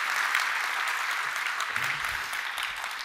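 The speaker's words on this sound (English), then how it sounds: "Big applause for Phil" A conference audience applauds after a keynote talk, a sustained wash of many hands clapping at even loudness, with a faint low voice briefly murmuring underneath near the end.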